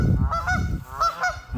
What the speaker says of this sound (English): let's talk about these Canadian geese